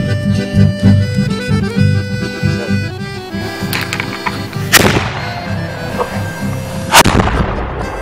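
Two sharp, loud gunshots from a black powder gun crack out a couple of seconds apart over a steady droning musical background, each blast ringing briefly before fading.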